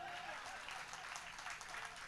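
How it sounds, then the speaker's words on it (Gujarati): An audience at a Gujarati comedy jokes dayro clapping in a sustained, even burst of applause, faint and distant, with no voice heard over it. "એક હારે તાળી નહીં પાડો ત્યાં સુધી હું અહીંયા જ ઊભો રહી"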